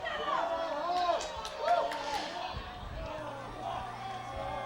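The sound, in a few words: crowd yelling at rowing race finish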